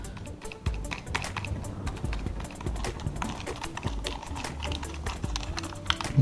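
Someone types on a Logitech MK220 keyboard, producing a quick, dense run of soft, muted key taps up close, with no talking.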